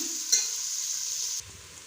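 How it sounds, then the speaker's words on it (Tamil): Sliced onions sautéing in a pan toward light brown give a steady close sizzle with a brief stir at the start, the hiss dropping away near the end, and no talk. "இது வந்து கொஞ்சம் லைட் ப்ரௌன் கலர் ஆகிற வரைக்கும் நம்ம வதக்கிக்கலாம்"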